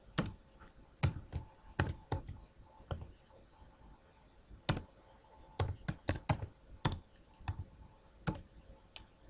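Typing on a keyboard: quiet, close clicky keystrokes in uneven bursts and pauses, no voice over them.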